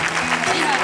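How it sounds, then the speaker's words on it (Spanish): Brief burst of crowd clapping for a singer at an open-air festival in Chipiona, steady and moderately loud over a held musical tone. "Ese aplauso para la Pili"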